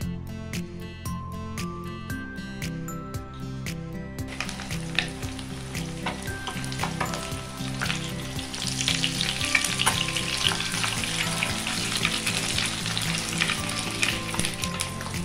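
Katla fish pieces frying in hot oil in a pan, a continuous crackling sizzle that grows louder and busier partway through, with occasional clinks and stirring, and no talk.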